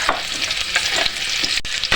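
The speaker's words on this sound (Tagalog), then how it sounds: "So lagyan natin ng mantika muna. Lagyan natin ng bawang." Garlic sizzles in hot cooking oil while being stirred for turkey adobo, a steady, close, loud frying hiss with brief scraping stir strokes throughout and no talking.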